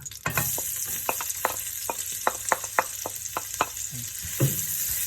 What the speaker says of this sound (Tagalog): Maggisa na po tayo ng sibuyas.